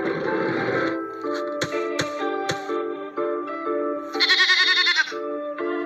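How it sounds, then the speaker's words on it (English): A goat bleats in short wavering cries over a light background melody, with a louder, higher bleat near the end. "Where is the goat?"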